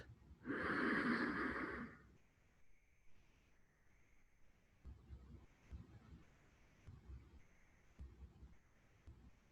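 A deep breath during Tummo breathing meditation, one long loud inhalation up close, then quieter breathing and soft rustles in a still room.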